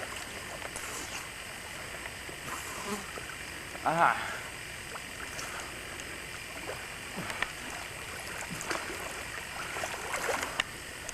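Water sloshes softly as a man swims around a swimming hole in late summer, faint and intermittent, with a short spoken exclamation partway through.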